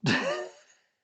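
A single sharp sneeze, loud and close, bursting out and trailing off within a second.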